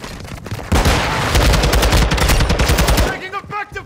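Rapid automatic gunfire from a Call of Duty: Modern Warfare II match, loud and sustained in dense bursts for several seconds, then tapering off into scattered shots and chirping game effects.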